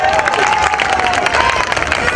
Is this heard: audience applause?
yes